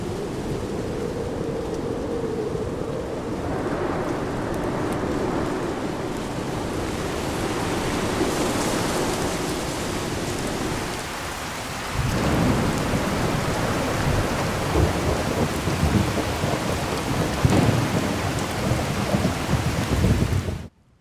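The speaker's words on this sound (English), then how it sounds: "a low rumble while the storm is going on and raindrops are hitting the wall" Heavy rain in Fallout 4 with the True Storms mod pours steadily against a wall while low thunder rumbles roll through; midway the sound briefly drops, then returns with louder rain and crackling thunder.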